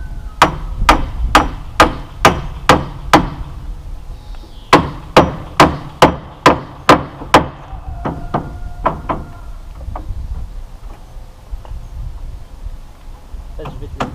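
A hammer drives nails into wooden counter-battens with a run of loud, evenly spaced close strikes, a brief pause, another quick series, then lighter scattered taps fading out as people talk nearby.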